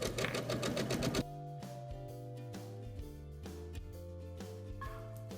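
A sewing machine runs a straight seam along a narrow edge, a fast steady mechanical whirring that stops briefly and then continues as a lower, even hum with small clicks.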